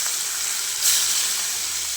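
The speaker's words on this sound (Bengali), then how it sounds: "তেলটা গরম হয়ে গেছে, এখানে আমি মাছগুলো ভেজে নেবো" Small cut fish pieces fry in hot oil, a dense hissing sizzle that holds steady for two seconds and briefly swells near the middle.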